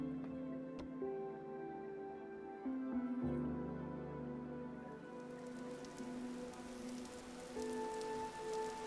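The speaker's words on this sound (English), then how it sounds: "it's finally started raining, right after we put our bed outside." Rain starts falling in a modded survival-style video game, a soft, quiet patter that thickens toward the end beneath sustained tonal background music.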